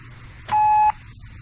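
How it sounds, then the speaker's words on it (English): A single short, clear electronic beep, steady in pitch and about half a second long, over a quiet background. "Leave a message after the beep"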